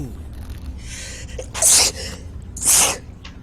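A person sneezes twice in a quiet room, each sneeze a sharp, loud burst about a second apart, preceded by soft breathy inhales.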